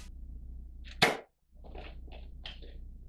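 A single sharp snap of an X-Shot Hurricane toy blaster firing, close and fairly quiet, followed by a short silence and then small plastic handling clicks.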